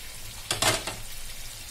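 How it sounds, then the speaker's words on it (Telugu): Bread cheese balls deep frying in hot oil give off a soft sizzle, with a brief brighter burst of crackling as pieces go in or are stirred, then settle back to a quiet bubbling. "చూసారా బ్రెడ్ చీజ్ బాల్స్ వేడుతున్నాయి"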